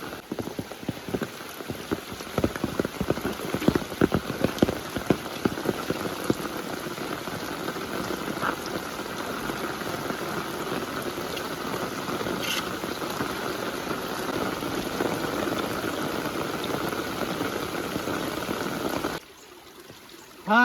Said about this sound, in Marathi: याला पाऊस आहे ना जोरदार चालूच झाला आहे